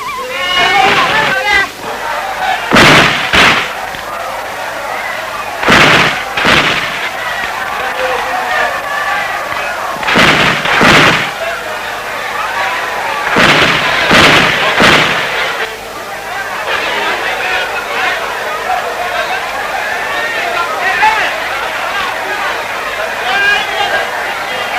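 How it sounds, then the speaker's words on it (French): Volleys of gunfire from old flintlock guns during a daily salute to a departing Mossi chief: sharp, loud bursts recurring every few seconds, heard over continuous narration in French. "leur fusillade salue chaque jour le départ de leur chef"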